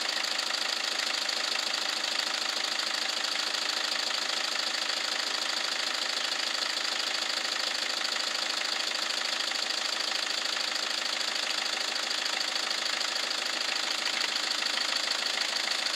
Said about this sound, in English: Warm the engine up until the thermostat opens.